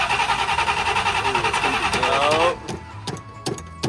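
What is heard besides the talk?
old monster truck engine starting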